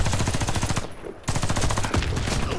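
Rapid machine gun fire in the multiplayer shooter Warface on the Hangar map, loud dense bursts that pause briefly before resuming in sustained rattling volleys.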